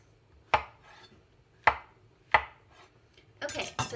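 A knife cuts mushrooms on a cutting board while preparing a potato vegetable skillet: three crisp, well-spaced chops close by, then a quicker cluster of cuts at the end, with no talking.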